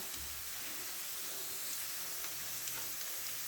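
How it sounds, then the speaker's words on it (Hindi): Garlic frying in oil in a home kitchen pan, a steady close sizzle running alone throughout at low level with no talk. "लहसुन फ्राई हो गया है"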